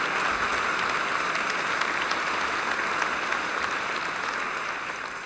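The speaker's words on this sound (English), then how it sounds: "I want to propose a very big applause for Mark for being the founder of Kids Rights Foundation and organizing this prize." Audience at the International Children's Peace Prize award ceremony applauding, a dense, even roar of clapping that fills the room at steady volume and tapers slightly at the end.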